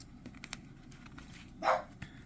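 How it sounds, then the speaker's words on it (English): A puppy gives one short, fairly faint bark at a distance, set against a quiet room with soft rustling from paper crafting. "And there goes the pup again."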